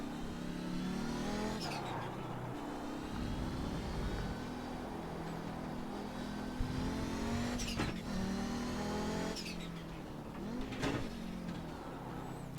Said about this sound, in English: as you can tell from the sounds, we are very heavily turbocharged